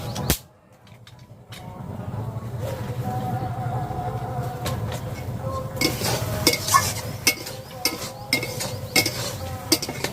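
Food being stirred in a pot during home cooking, with scraping and clinking of a utensil against metal, irregular taps over a steady low background hum.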